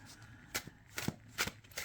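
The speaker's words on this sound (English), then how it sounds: "So the overhand shuffling is great." Overhand shuffling of a cardstock tarot deck: a few soft, close riffling swishes and light slaps at uneven intervals, quiet, with no talking.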